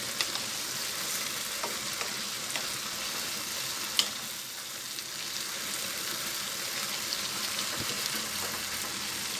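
Pakbet vegetable stew cooking in a covered pot gives a steady, close bubbling hiss, with a few faint ticks and clinks scattered through it.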